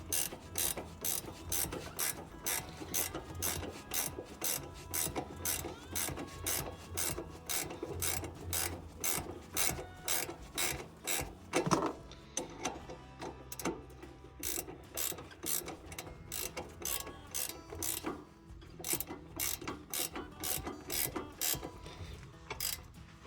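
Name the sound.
ratcheting wrench tightening on Cub Cadet 105 steering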